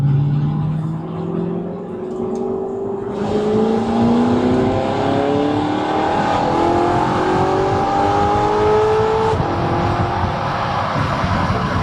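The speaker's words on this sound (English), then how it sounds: "Let's hear this exhaust, because we all know we love this exhaust sound on the V8 R8, especially with this F1 Sounds exhaust system" An Audi R8 V8 fitted with an F1 Sounds exhaust system accelerates through several gears, each rising engine howl cut by a shift, loud and steady from start to finish.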